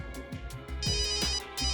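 A phone ringing with a bright, tonal electronic ringtone in a repeating pulsed pattern, loud and close, with no talk over it.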